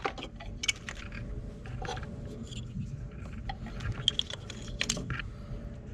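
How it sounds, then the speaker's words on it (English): Ignition coils dropped into place on the engine of a 2006 Mercedes C230 during spark plug replacement, giving a scatter of light clicks, plastic taps and small metallic clatters over several seconds, close by, with no talking. "So I'm just gonna drop my coils in."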